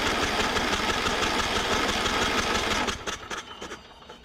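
Craftsman YT3000 riding mower engine cranking over on a jumper pack, a fast steady mechanical churning that runs loud for about three seconds, then stops and sputters out in a few fading pulses.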